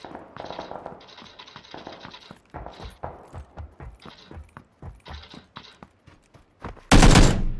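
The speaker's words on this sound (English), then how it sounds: "he's shooting through like eight walls" Rapid bursts of in-game gunfire in PUBG, shots firing through several walls, crackling in quick irregular volleys before a very loud, close blast near the end.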